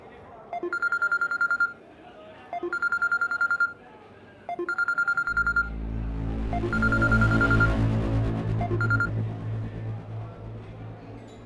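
Telephone dialing tones: three short, evenly spaced bursts of keypad beeps, then a louder broad wash of sound that swells and fades.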